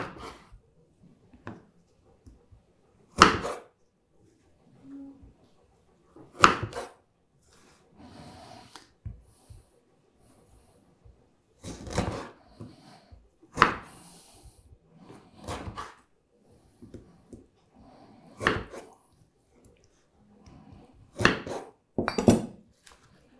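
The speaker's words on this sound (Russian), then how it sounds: "Мы берем с кожурой, все это рубим на вот такие вот доли." Sharp knife chops strike a cutting board one at a time as whole limes with peel are cut into wedges, spaced irregularly, with quieter handling sounds between them.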